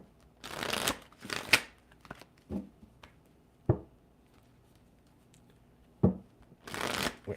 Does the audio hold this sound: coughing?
no